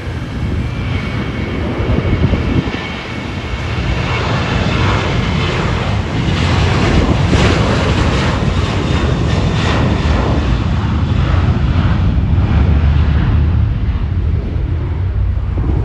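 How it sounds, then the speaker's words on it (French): Airplanes taking off and landing at Funchal airport in Portugal: a loud, sustained engine roar that swells and holds for several seconds, heard from nearby without speech. "tu peux voir les avions décoller puis atterrir"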